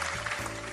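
A short burst of applause for ChatGPT, steady and fairly loud throughout with no voices over it.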